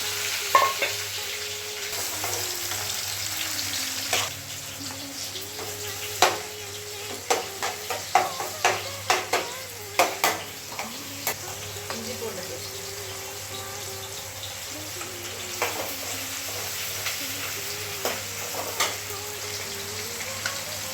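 Onions frying in a pan for a Sunday chicken and quail fry, steady sizzle under repeated sharp scraping stirs of a spoon against the pan, close and fairly loud, with faint running water in the background.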